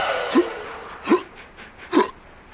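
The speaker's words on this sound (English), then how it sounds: "Try sugar, Mr. Benjamin said. I've heard it cures hiccups" A dog hiccups three times in a children's story sound effect, short squeaky gulping hics spaced evenly and heard close and clear with no talk.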